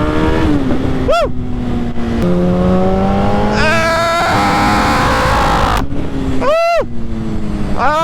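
A motorcycle ridden in cold weather accelerates hard, its engine note rising through gears with pitch sweeps and brief drops at shifts, loud and close with wind rush, while passing vehicles whoosh by.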